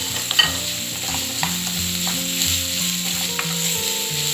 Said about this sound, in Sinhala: ඒකට මම දාගන්නවා අමු මිරිස් ටික